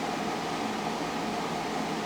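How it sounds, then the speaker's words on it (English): An air conditioner runs in a shed with a steady, even broadband whoosh and hum, unchanging and alone, with no other sounds. "have to run the AC in my shed."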